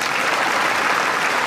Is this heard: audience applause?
yes